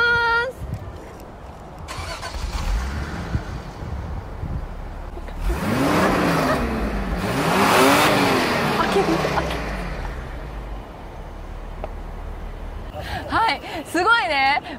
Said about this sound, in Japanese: それでは、マフラー音聞いてみよう。